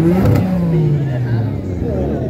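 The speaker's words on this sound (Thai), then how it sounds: "ฟังเสียงเครื่องยนต์นะฮะ" A Nissan Skyline GT-R engine revs loudly and close by at a Pattaya night parade, its pitch sliding down as it settles, with voices murmuring in the background.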